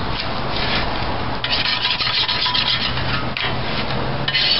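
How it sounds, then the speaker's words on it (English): Loud, continuous rough scraping as an old gasket is worked off the case of a transmission on a 1975 Dodge D100 pickup, strokes rasping close up with brief pauses and no talk. "let's continue getting this thing scraped off of here"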